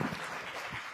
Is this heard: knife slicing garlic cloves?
no